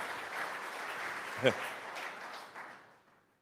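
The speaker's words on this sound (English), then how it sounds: "You don't have to clap after every slide unless you" Audience applause at the Tesla 2022 annual shareholder meeting, a dense, steady wash of clapping from a large crowd with one sharper knock partway through, then thinning and fading out toward the end.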